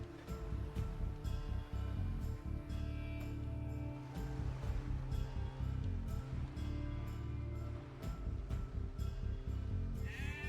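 Repeated sheep bleats in Age of Empires 2 DE, a rapid string of short game-animal calls over a busy, steady in-game background.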